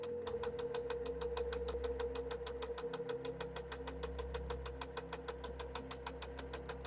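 A sewing machine stitching along the edge of vintage 9-patch quilt fabric and back-stitching, a fast steady mechanical rhythm of needle strokes with a constant motor hum, close and with no talk.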